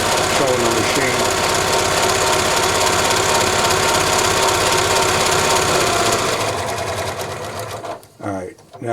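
A Janome Memory Craft 6500P sewing machine runs steadily and loudly for about six seconds with a fast mechanical whir, then winds down into a softer, uneven hum as it slows near the end.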